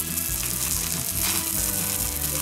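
Fries sizzle and crackle steadily in hot oil, a close, dense frying hiss that carries on without pause.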